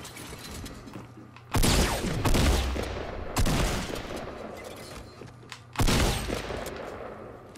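Bursts of automatic gunfire in a Fortnite Battle Royale match, three loud volleys with sharp onsets and ringing decays, separated by quieter stretches of low rumble.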